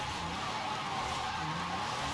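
A hypercar in the racing game Forza Horizon 5 gives off a steady, fairly quiet engine drone mixed with a continuous tire skid, heard alone and without any talk.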